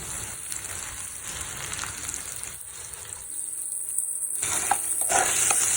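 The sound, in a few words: onion and tomato sautéing in pan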